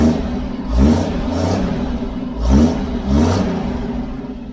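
Toyota FJ40 Land Cruiser engine with an exhaust leak around a bolt, revved in two paired bursts: the idle rumble swells and falls back twice, loud and close, with a raspy, puffing edge and no talk.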